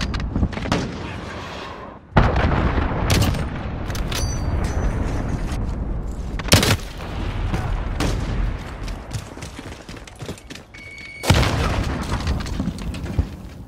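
A cruise missile launch in Call of Duty, followed by explosions: several sudden loud booms with rumbling tails and scattered gunfire between them, and no talk.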